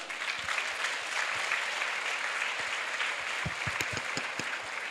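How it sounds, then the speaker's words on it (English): Steady applause from an audience at an International Women's Day celebration, honouring a panel; dense, even clapping fills the whole stretch with a few louder nearby claps standing out toward the end. "let's give our panelists a huge round of applause"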